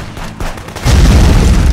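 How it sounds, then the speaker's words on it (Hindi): A bomb goes off in the Contraband Police border-patrol game. A few sharp cracks lead into a heavy, loud blast whose rumbling roar holds on to the end. "ये बॉम्ब किसने डाला, बॉम्ब किसने डाल दिया?"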